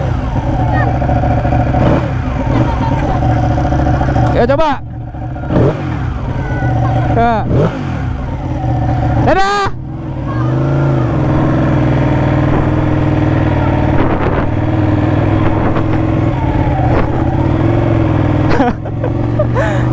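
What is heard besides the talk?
Ducati motorcycle engine revving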